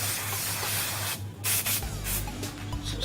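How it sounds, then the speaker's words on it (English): Aerosol hairspray sprayed onto a client's styled pompadour at a barber's chair, heard as a close, steady hiss of a few seconds with a brief pause and a low hum underneath. "And hairspray."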